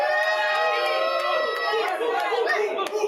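Crowd cheering for West Las Vegas at an anniversary gathering, a dense wash of shouting and whooping voices that holds steady throughout at moderate loudness.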